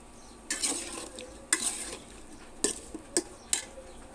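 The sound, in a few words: cauliflower being stir-fried in pan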